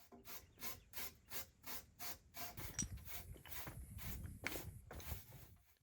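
A brush scrubs dirt off old wooden beams with repeated rough, rasping strokes in a steady back-and-forth rhythm. The sound is close but faint, and the strokes grow denser toward the end.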